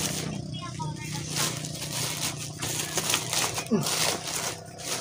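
Microphone packaging is torn open by hand, giving crinkly, crackling rips and scrapes of plastic and cardboard close up, in uneven bursts.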